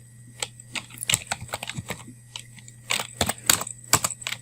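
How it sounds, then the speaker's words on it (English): Computer keyboard keys tapped in quick irregular bursts, close and fairly quiet, with a low steady hum underneath and no talking. "So we'll type in ipconfig"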